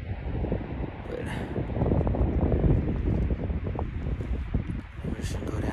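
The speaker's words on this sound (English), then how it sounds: "It's real windy." Strong wind roars steadily across a mountainside during a New Mexico cow elk hunt, a loud broadband rush with gusts and buffeting on the microphone throughout.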